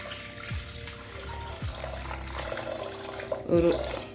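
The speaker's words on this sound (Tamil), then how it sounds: "தோரம்பருப்பை தேவையான தண்ணி ஊற்றிப்போம்" Water pours and splashes steadily into a vessel of lentils, with some clinks of utensils and faint background noise throughout.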